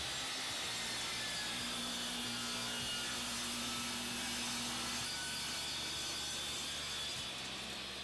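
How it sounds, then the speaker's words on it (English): A table saw rips about an eighth of an inch off a wooden board to straighten its edge, a steady, loud whining cut that runs the whole way through, with no voices. "So I'm going to take off about 1/8 of an inch just to straighten it up. My table saw here."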